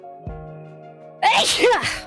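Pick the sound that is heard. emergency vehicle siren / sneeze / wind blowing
sneeze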